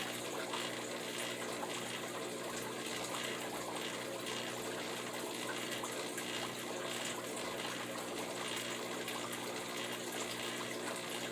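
Water drains steadily out of a Daphnia Moina culture tank during a water change, a continuous, even rushing and trickling flow that holds at one level for the whole stretch with no talk over it.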